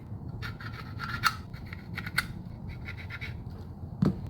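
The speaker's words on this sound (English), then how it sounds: "Go ahead and set that. And scribe a line." Steel scriber dragged across a WWII Thompson magazine being reworked, giving a few faint, dry scratching strokes with a couple of sharper scrapes over a low background hum.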